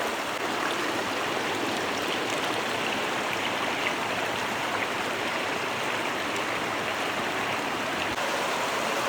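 Fast-flowing river water rushes in a loud, steady roar that fills the whole clip, with no voices over it.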